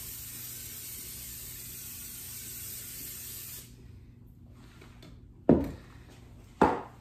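A steady hiss of aerosol nonstick cooking spray into a baking dish lasts several seconds, then stops, followed by two sharp knocks.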